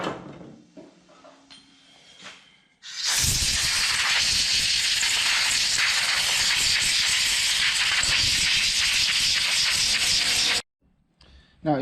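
Compressed air blasts through the pump body of a torpedo heater under repair, a loud continuous hiss lasting about eight seconds before cutting off abruptly, with quieter handling noises before it.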